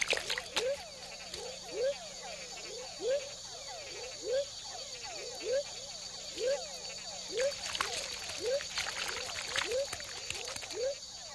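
Tiny rainforest frogs mating in a shallow pool at the foot of dipteryx trees in Panama call repeatedly, a regular series of short chirping croaks roughly twice per second, with trickling water and insect chatter around them.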